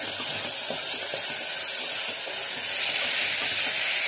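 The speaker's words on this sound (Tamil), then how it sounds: "அரை டீஸ்பூன் இஞ்சி பூண்டு பேஸ்ட் ஆட் பண்ணிவிட்டு நல்லா ஃப்ரை பண்ணிடணும்" Vegetables fry in a pan with ginger garlic paste, giving a steady close sizzle and hiss that grows louder partway through.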